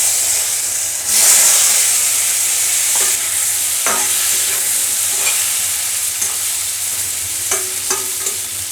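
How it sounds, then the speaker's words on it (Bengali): Pieces of giant taro (maan kochu) fry in hot oil with dried red chili and bay leaf, a loud close sizzle with a burst near the start and scattered scrapes and knocks of a spatula stirring. "এখন আমি এই যে মান কচুটাকে ভেজে নেব।"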